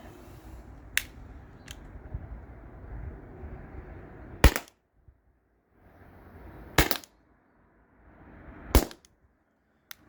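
Three sharp, loud cracks from a Salt Supply S2 salt gun fire a couple of seconds apart, each a crisp snap that drops into near silence. Softer handling noise and a couple of faint clicks come before them.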